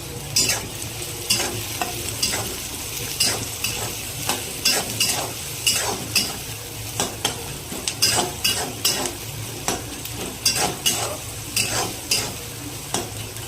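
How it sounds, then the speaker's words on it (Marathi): Onion sizzles steadily in a pan while a spatula stirs it, making regular close scraping clicks against the metal over a continuous frying hiss. "चांगलं परतून घेऊ।"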